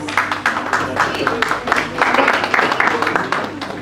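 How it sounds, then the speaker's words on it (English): Audience applause at an award ceremony during a cartoon festival in Visakhapatnam: a dense, steady wash of many hands clapping that fills the whole stretch at fairly strong level, with a faint background murmur mixed in. "Please give a huge round of applause"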